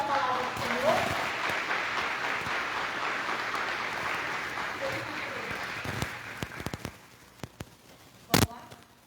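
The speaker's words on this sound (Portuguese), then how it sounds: "Você pode aplaudir a palavra do Senhor?" A church congregation at a Sunday family service claps together, the applause full at first and then thinning out after several seconds into a few scattered claps and one sharp closing clap.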